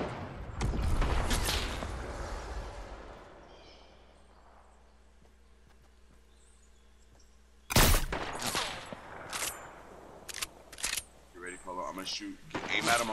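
Bursts of video game gunfire crackle at a distance, with a loud volley near the midpoint followed by scattered shots, while players talk over the action.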